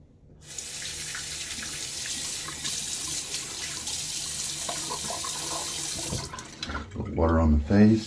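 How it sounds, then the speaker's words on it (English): Water runs steadily from a tap for wetting the face before shaving, a continuous splashing rush that cuts off near the end, followed by brief nearby movement sounds. "Water on the face to"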